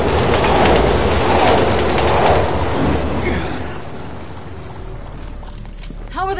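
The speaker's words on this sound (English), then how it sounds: "Train's coming!" Train passing in Resident Evil 6: a loud, close roar of rail cars and rumbling wheels that fades as it moves away, ending with a brief high metallic squeal.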